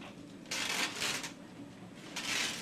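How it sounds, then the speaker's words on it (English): Plastic bags are pulled off shoes during Ebola protective-gear removal, giving a few close, crisp crinkling bursts of rustling plastic separated by short quieter gaps. "We're going to remove plastic bags over the shoes."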